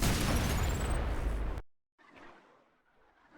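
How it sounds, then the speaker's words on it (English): A Malicious Railcannon shot and its explosion in the fast-paced shooter game ULTRAKILL: a loud, dense blast with a rising whistle that cuts off sharply, followed by a softer rumbling tail. "So there, I shot the malrail too late, and I slid too early."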